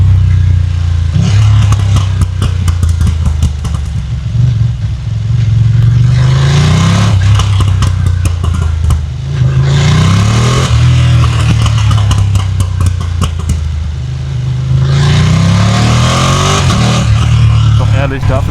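A Ducati motorcycle engine revs hard several times in the Bavarian Alps. Each loud rev rises in pitch and falls back, repeating about every few seconds over a rough, throbbing idle.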